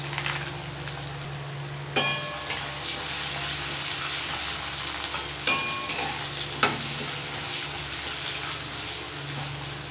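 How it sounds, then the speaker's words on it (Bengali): Potatoes fry with salt and turmeric in a pan, giving a continuous close sizzle punctuated by a few sharp stirring clanks and scrapes, with no talking. "এখন আমি আলুগুলোকে ভেজে নেব নুন হলুদ দিয়ে অল্প লাল লাল করে"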